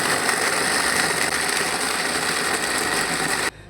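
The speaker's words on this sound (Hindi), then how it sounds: "अब ये चारों चीज़ों को हम अच्छी तरह ग्राइंड कर लेते हैं।" An electric grinder coarsely grinds four whole spices for an aloo kofta gravy. It gives a loud, continuous whirring and rattling drone for about three and a half seconds, then cuts off abruptly.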